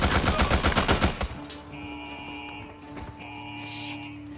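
Sniper gunfire from a rooftop in the Days Gone video game: a rapid, loud string of close shots for about a second, then the shooting stops and a low steady hum with faint tones remains.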